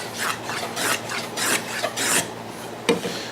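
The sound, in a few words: hand plane shearing across wood end grain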